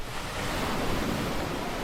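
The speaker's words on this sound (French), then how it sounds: "Elle saute dans les vagues." Ocean waves break on a beach in a steady, broad roar of surf, loud and continuous, with wind mixed in and no voices.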